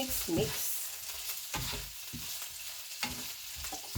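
Food being stirred in a sizzling frying pan, with a steady fry hiss and intermittent scraping strokes of the utensil, close by and moderately quiet, with no speech.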